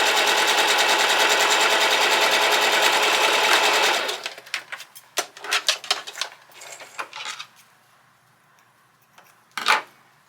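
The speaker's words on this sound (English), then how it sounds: "We're going to sew all the way to the end." A Singer Heavy Duty sewing machine runs a seam at a fast steady whirring clatter for about four seconds, then stops, followed by light clicks and handling noises of fabric and parts.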